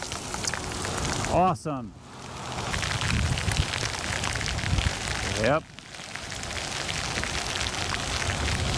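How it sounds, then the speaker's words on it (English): Dense, steady roar of a heavy rain downpour, unbroken throughout, with a person briefly speaking twice over it while riding an electric unicycle. "Right now, this is a borderline downpour."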